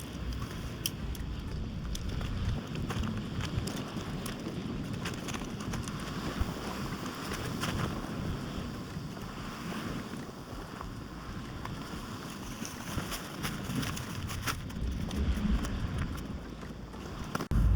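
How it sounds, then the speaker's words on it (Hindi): Strong, warm night wind buffets the microphone in a steady, rushing roar at a campsite, with no talk over it. "भाई अभी बहुत विंड चल रही है"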